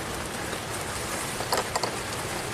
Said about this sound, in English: it's starting to rain pretty hard again